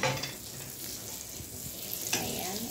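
Butter melting in a pan with a little oil, giving a steady close sizzle and frying crackle throughout, with soft stirring scrapes and no talk.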